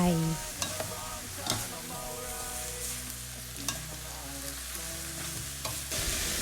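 Bamboo shoots and chicken stir-fried with curry paste, kaffir lime leaves and holy basil in a pan over a gas flame, a steady close sizzle broken by scraping stirs and occasional clacks of the utensil against the pan.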